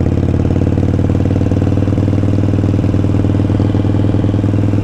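Motorcycle engine idling low in first gear, a steady loud mechanical chug with ticking clatter that holds throughout with no one speaking.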